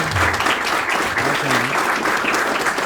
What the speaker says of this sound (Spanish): le damos un gran aplauso a Daniel Guzmán